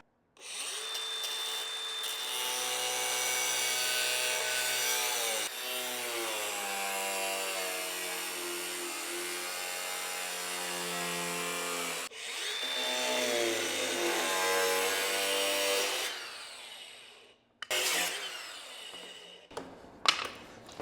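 A power tool cutting a notch into 4-inch pipe: a loud, steady whining grind that changes pitch as the cut loads and eases, pausing briefly between passes, close up and without speech.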